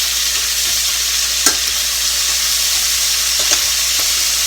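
Shrimp fry in a pan over high heat, giving a loud, steady sizzling hiss throughout with a couple of soft taps or stirring knocks, and no voices.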